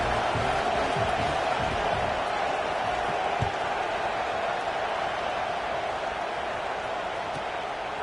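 A football stadium crowd in a college football video game gives off a steady, low murmuring roar throughout, moderately loud with no clear cheers or speech.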